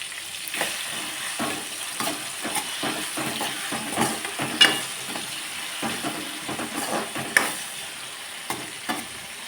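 Food sautéed in a pan with salt, a low sizzle under repeated clattering stirs and scrapes of a utensil against the pan at an uneven, brisk rhythm, close by.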